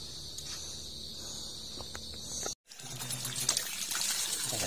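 Water pumped by hand in a backyard vegetable garden where kangkong is grown: a steady, close gushing flow that breaks off for a split second, then resumes slightly louder and fuller.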